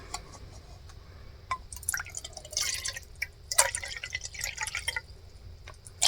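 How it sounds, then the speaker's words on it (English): Bottled water is poured into a container in short bursts, with trickling splashes and drips of liquid hitting the bottom, close and fairly clear. "I have this bottled water. I'm going to put a half cup in here."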